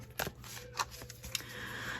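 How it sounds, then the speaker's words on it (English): A deck of tarot cards is shuffled by hand with soft riffling and papery slaps, close and fairly quiet, with no talking. "Oh, this is a little tough to shuffle."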